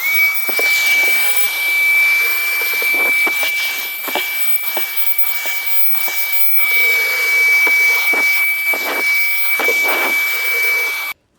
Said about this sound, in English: now let's see if we can vacuum some of this glass up